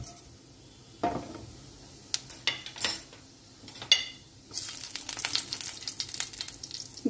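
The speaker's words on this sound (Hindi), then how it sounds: "देखिए मेरा घी गर्म हो गया है। अब इसमें मैं 1/4 चम्मच जीरा डाल रही हूँ।" Cumin seeds dropped into hot ghee, with a burst of crackling sizzle among clinks of a spoon and metal pan, ending in a bright, continuous spitting fry.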